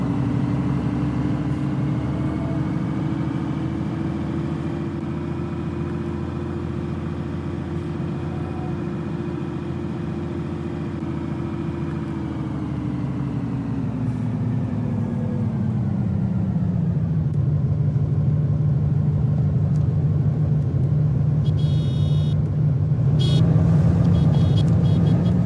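TTC Novabus LFS city bus on the 996 Wilson Express route, its engine droning steadily at close range with a deep rumble that shifts in pitch and grows louder as it accelerates, no talk over it.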